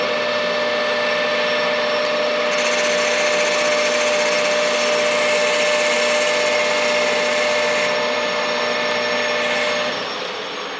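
A metal lathe runs steadily as it takes a light skim cut on a metal part for a homemade inverted fork spring compressor, a constant loud whirring hum with a brighter hiss through the middle, no talk.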